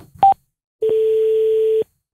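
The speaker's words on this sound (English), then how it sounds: "Double-click the phone button to redial a number." A Cardo PACKTALK Slim motorcycle headset sounds its redial tone: a short beep followed after a pause by one steady, clean electronic tone lasting about a second, close and clear against silence.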